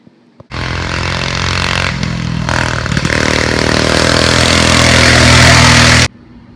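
A loud go-kart engine starts abruptly and roars at high revs for several seconds, climbing in pitch with a rough rattling edge, then cuts off sharply, with no one speaking.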